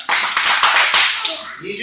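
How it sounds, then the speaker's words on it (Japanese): A burst of sharp, close hand claps runs in a rapid sequence during a classroom lesson, loud and percussive, with voices murmuring underneath as the clapping fades. "えー、首で丸拍手3回"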